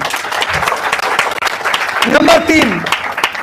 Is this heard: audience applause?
yes